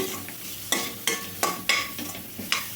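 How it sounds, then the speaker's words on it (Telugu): Radish poriyal frying in a pan with coconut powder, a steady soft sizzle broken by several sharp stirring scrapes at irregular intervals, close and moderately loud with no talk. "కొబ్బరి పొడి మొత్తం ఇట్లా వేసేసాం కదండి. ఒక నిమిషం పాటు అయితే వేయించుకోవాలండి."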